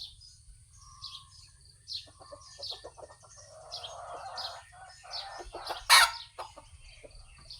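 A green-legged breeding rooster crows nearby amid scattered clucks and other fowl calls over low background hum, with one loud sharp call near the end.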